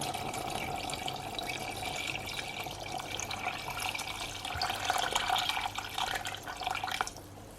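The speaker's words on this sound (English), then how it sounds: "pour water over to cover, make sure all of that meat is submerged under the liquid" Water poured into a pot of beef stew to cover the meat, a steady close pouring and trickling with small drips, rising slightly toward the end, with no talking.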